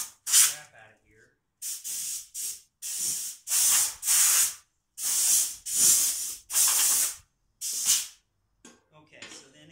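Compressed air blasts debris out of a 2002 Murray 40-inch mower deck in a series of loud, hissing bursts, each lasting about half a second to a second, separated by short pauses.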